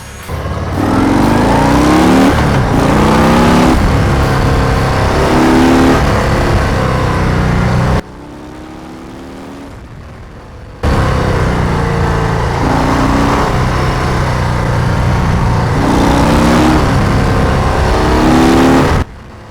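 Loud 2019 Harley-Davidson FXDR 114 engine with stock exhaust rumbling and revving in repeated surges while riding, dropping briefly to a quieter idle before roaring up again.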